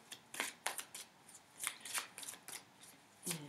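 Several quick riffling bursts as a deck of Angel Tarot cards is shuffled by hand, crisp papery flutters spaced irregularly over a few seconds, close and fairly soft.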